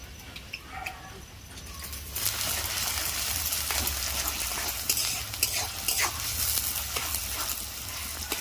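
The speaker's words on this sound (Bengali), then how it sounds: "আমার কড়াটা গরম হয়ে গেছে, আমি এতে একটু সাদা তেল দিয়ে দিই। এর মধ্যে আমি পেঁয়াজ কুচানো দিয়ে দেবো।" Chopped onions drop into hot refined white oil in a heated wok, and a quiet pan bursts into a strong, continuous sizzle with occasional stirring clatter, close and loud.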